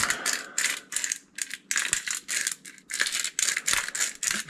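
A hand spice grinder cranks over a fish brine mix, giving rapid ratcheting, gritty bursts in an uneven rhythm, close and fairly clear, with no voices.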